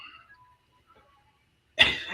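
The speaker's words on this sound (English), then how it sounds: "No, I was coughing." After near silence, a single short burst of coughing erupts close by at the very end.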